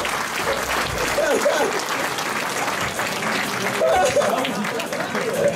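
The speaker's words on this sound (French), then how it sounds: "Vous pouvez l'applaudir" A crowd at a 2017 Plaines et Vallées rally podium ceremony applauds the winner with steady, dense clapping throughout, while a voice talks over it on a loudspeaker.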